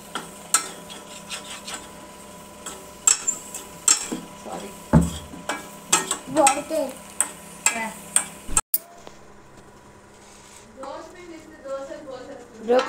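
Gram flour and chili powder batter being stirred and mixed by hand for broccoli gobi in a home kitchen, with repeated scraping and clinking of a utensil against the bowl under talk.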